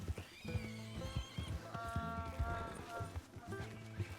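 A donkey running fast in a video game, quick clip-clop hoofbeats with a braying whinny over them, fairly faint and mixed under a voice.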